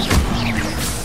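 In Hogwarts Legacy, the Expelliarmus spell goes off in a single loud magical whoosh with a crackling burst, brief and close.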